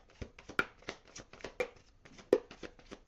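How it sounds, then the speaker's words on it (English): Tarot cards are shuffled by hand in quick, uneven bursts of riffling and soft slaps, close and fairly quiet. "I'm going to shuffle one more time."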